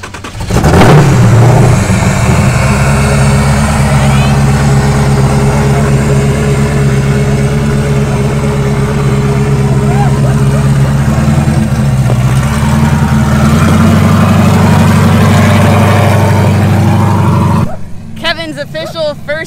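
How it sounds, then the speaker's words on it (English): An Ultra 4 off-road car's engine starts with a sharp burst, then holds a loud, steady idle with revs rising toward the end before cutting off abruptly, all close and dominating; voices talk briefly over it. "wait till I start the car"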